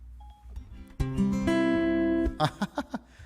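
An iPhone's Siri assistant activating, heard as a short rising chime and electronic tone followed by a few quick blips, clear and close with no one talking.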